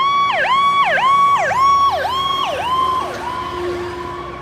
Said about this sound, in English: the same phenomenon that makes ambulance sound waves increase in pitch when the ambulance is moving towards you and vice versa